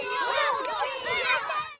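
Many children's high voices shout and cheer together at a school relay race, a dense, loud, continuous crowd of excited young cheering.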